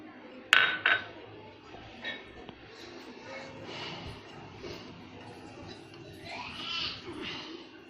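Spoon scraping and clinking against a bowl while spices and coriander are mixed into a mixture, with two sharp metallic clinks near the start, then softer stirring and scraping, fairly close.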